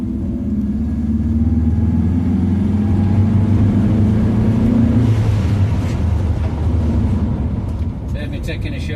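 Ford Zephyr V4 car driving along and accelerating, its low engine rumble and road noise steady and close throughout, with a brief higher sound near the end.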